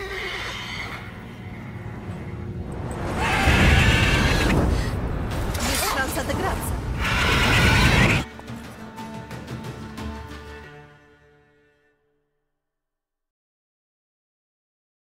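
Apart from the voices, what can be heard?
horse neighing in video game The Witcher 3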